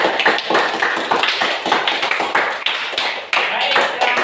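A classroom of students claps together in a brisk, dense burst of applause, close and loud, with voices mixed in over the clapping.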